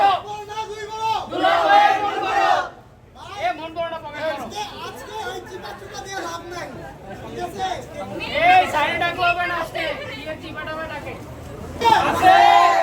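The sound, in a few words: crowd loudly chanting slogans at a wedding gate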